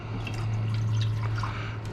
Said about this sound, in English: I'm just going to put a little bit of water in there now.